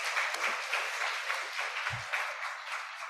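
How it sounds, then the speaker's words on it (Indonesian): Applause from an audience at a university student exchange session, a brief spell of dense, fairly quiet clapping heard from a distance, with no voices over it. "Kita beri tepuk tangan sekali lagi."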